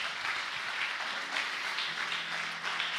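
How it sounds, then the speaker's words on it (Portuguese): A church congregation applauds in a dense, steady burst of many hands clapping together, loud and close, continuing without a break through the whole moment. "Aplauda ao Senhor Jesus."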